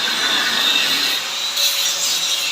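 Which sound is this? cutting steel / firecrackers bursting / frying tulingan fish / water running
cutting steel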